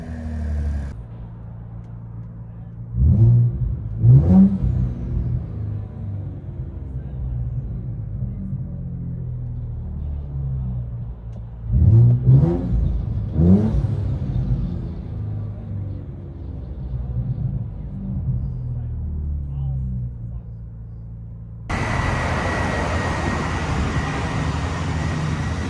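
A 2024 Ford Ranger Raptor with a 3.0L twin turbo V6 and loop pipe, heard from inside the cab: a low rumbling idle with two strong rev bursts, then a louder, rougher engine note at the end.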